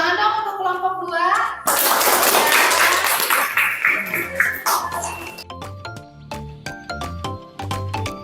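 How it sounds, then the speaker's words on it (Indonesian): Classroom audience in a teacher-training assessment session in Bogor claps for a group after its presentation, a dense burst of applause that thins into scattered individual claps. "Tepuk tangan dong untuk kelompok 2."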